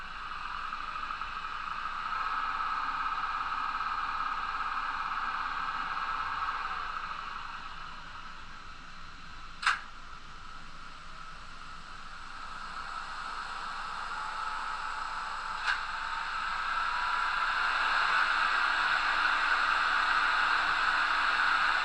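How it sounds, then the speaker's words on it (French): Cooling fan of a DR Series 254 electric locomotive, the 'Crocodile', gives a steady whooshing drone that dips slightly midway and swells again toward the end, broken by two sharp clicks. "J'éteins le ventilateur."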